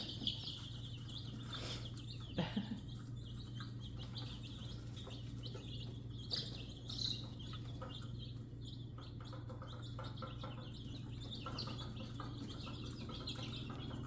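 Faint high peeping from chicks scattered across a steady low hum, with a few brief louder calls; no talking.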